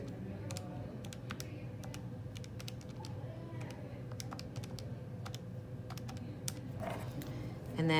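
Quick, light keystrokes tapping on a computer keyboard in uneven bursts, close up, over a steady low hum in the background.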